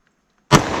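A single loud, sharp gunshot from a .45 ACP pistol firing a hot Buffalo Bore round into a wooden board, cracking suddenly after a brief silence and trailing into a short noisy decay.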